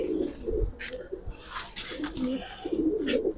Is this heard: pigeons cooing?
yes